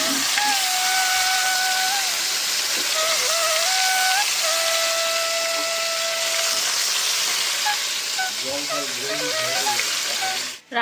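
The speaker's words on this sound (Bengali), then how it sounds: "এখন এই যে মাছ কটা ভেজে নেব" Koi fish frying in a wok over a gas flame gives a loud, steady sizzle with faint whistling tones running through it, and a voice briefly speaks near the end.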